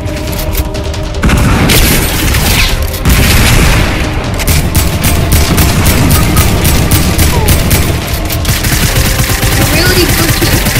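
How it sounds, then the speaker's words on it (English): Pump shotgun blasts from a purple-rarity weapon in the Fortnite battle royale video game, loud and booming, fired in a dense, continuous barrage of heavy shots layered with other gunfire and game noise over about ten seconds. "I had a purple pump shot"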